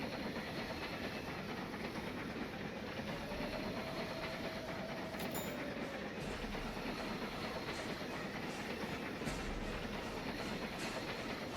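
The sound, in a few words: train noise in a video game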